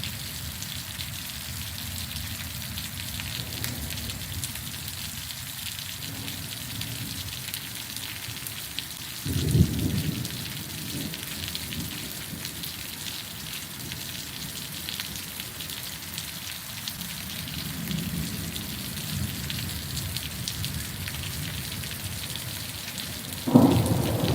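Heavy storm rain pours steadily beside a garage in Richland, Michigan, with rumbles of thunder swelling midway and again at the end, all close and constant.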